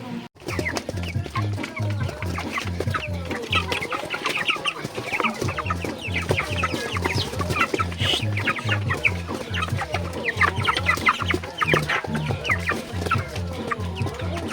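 Many chickens cluck and chatter together in a dense, continuous chorus, close and loud, with overlapping calls and a steady pulsing rhythm throughout.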